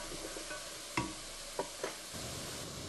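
Vegetables and spring onions cooking in oil for braised short ribs give a soft, steady sizzle with a few brief clinks of stirring, quiet and close.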